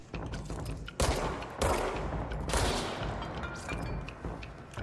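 Gunfire in the video game Control, repeated loud, close bursts of rapid shots separated by brief pauses, no talking heard over it.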